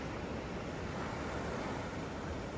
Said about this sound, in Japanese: 江戸岬近くの海ですね。